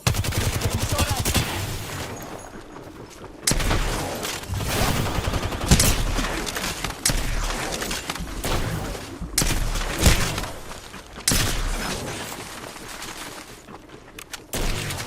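Bursts of rapid gunfire ring out from a video game, with several loud volleys and sharp single shots spread across the clip amid game effects.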